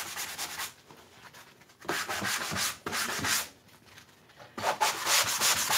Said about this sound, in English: And I'm only sanding in areas where some of the script that we did with the black paint